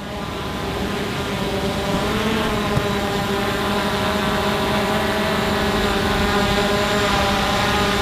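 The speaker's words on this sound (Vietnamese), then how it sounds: "So how do you think, Vincent, after flying the drone?" A drone flies overhead with a steady, loud propeller drone that shifts slightly in pitch as it comes in to land, no voices.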